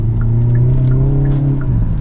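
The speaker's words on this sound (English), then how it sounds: "your exhaust sound." A Hyundai Elantra N in N mode, its exhaust giving a loud, steady, deep drone heard from inside the car, with a low rumbling hum that holds nearly level and faint ticking overtones.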